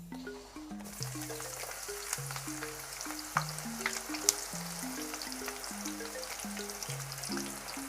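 Onions frying in a pan for a West African bitoto dish, a steady close sizzle with faint crackles, no talking, some soft background tones underneath.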